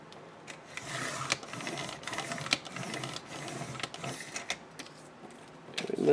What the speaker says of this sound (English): Okay, so I'm gonna first trim off the edge for my binder holes.